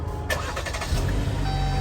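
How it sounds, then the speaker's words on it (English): A 2022 Jeep Compass Latitude Lux starts with a brief starter crank, then the engine catches and settles into a steady idle, heard up close from inside the cabin. "The car's not on yet, but I will turn it on for you right now."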